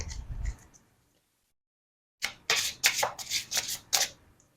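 A deck of tarot cards is shuffled in brief bursts during a pick-a-card reading: a short rustle, a pause of silence, then several quick close crisp riffles in a row, with no voices.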